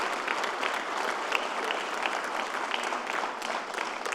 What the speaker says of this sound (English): We clap about this